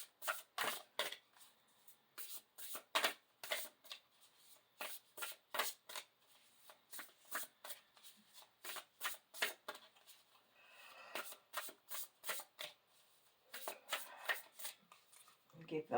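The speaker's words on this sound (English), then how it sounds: "give them a good shuffle" Oracle cards being shuffled by hand, a quiet close-up series of crisp riffling bursts in an irregular rhythm with brief pauses, under soft talking.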